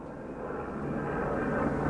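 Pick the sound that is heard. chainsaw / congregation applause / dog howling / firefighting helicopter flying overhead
firefighting helicopter flying overhead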